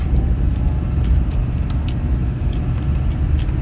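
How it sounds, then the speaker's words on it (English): A Duramax diesel pickup truck hauling a loaded trailer up an icy road in Montana, heard from inside as a steady, loud low engine drone with faint metallic jingling on top. "this good old Duramax diesel has incredible torque, so that's always the best machine around for hauling"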